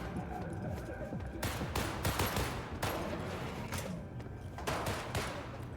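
Repeated gunfire rings out at a shooting range in Cyberpunk 2077, several sharp loud shots in irregular bursts with brief gaps between them.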